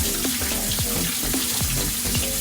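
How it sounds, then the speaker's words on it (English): Continuous water sloshing and swirling with light grainy rattling, like rice being stirred and rinsed in a bowl, close by with no voices. "I normally wash my rice about 3 times"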